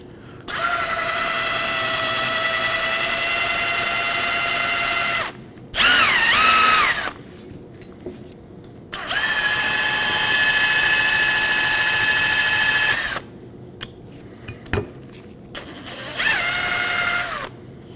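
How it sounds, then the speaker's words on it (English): A high-pitched power drill spins a bore brush inside a Nissan Maxima brake caliper bracket in several bursts, stopping and restarting with short pauses between runs, close and loud. "I'm going to take a bore brush with a drill and clean along the inside of the caliper bracket"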